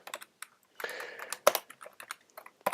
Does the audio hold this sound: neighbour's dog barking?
no